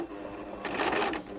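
A sewing machine stitches along a fabric border in a quick, steady mechanical whirr of needle strokes, heard up close and getting louder partway through.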